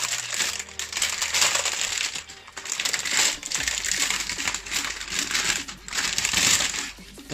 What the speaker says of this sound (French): Donc, le clavier, on va le déballer tout de suite.